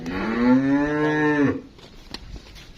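A Friesian Cholistani cross cow lets out one long, loud, close moo that stretches over about a second and a half, then fades into quiet outdoor background on a farm in Pakistan.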